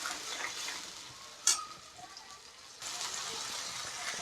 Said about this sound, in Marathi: आता आपल्याला ही जी ग्रेव्ही आहे तिला तेल सुटेपर्यंत परतून घ्यायचंय।